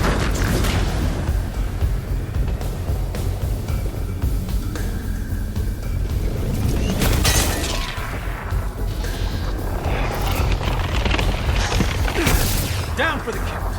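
Thunderbolt missiles exploding in the Iron Man VR game, a dense continuous wash of booms, crashes and mechanical clatter with loud blasts around the middle and end, mixed with game voices.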